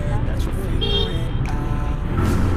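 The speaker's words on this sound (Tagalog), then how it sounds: "Traffic na ngayon." Heavy road traffic in Quezon City, heard from a motorcycle taxi: a steady low rumble of engines with a brief horn toot near the middle, with voices around it.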